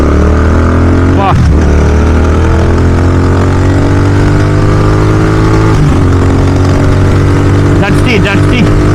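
A Royal Enfield GT650 motorcycle with a Red Roaster exhaust rumbles loudly and steadily while riding, its engine note rising and falling through the ride as a person talks over it.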